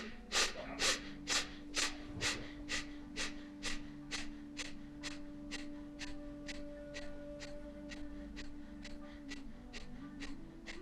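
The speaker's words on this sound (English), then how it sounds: "Just going to do a few rounds of Kapalabhati just to clear everything out." Kapalabhati yoga breathing: a quick, even series of about twenty forceful nasal exhalations, close and loud at first, then steadily softer, over a faint steady hum.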